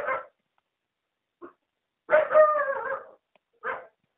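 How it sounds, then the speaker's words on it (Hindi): A dog from the Minecraft video game barks in short separated bursts, with one longer whining, howl-like call in the middle, fairly close and alone with silence between the sounds. "यार इस कुत्ते को बंद कर ले"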